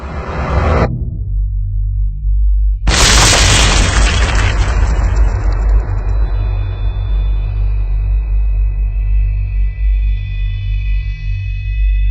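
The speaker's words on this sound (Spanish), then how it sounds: "unos segundos más tarde una segunda explosión hizo volar por los aires la losa del reactor y las paredes" A deep, roaring blast of the Chernobyl nuclear reactor explosion bursts in after a low rumble, then a long, heavy rumbling decay fills the rest of the clip, loud and close.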